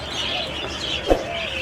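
Pet pigeons give a single short, soft coo amid a steady background hiss.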